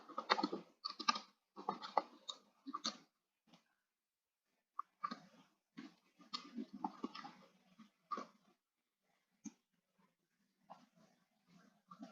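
Typing on a computer keyboard while entering an Excel formula: close, quiet clusters of rapid key clicks in uneven bursts, separated by pauses and a few isolated taps, with no talking.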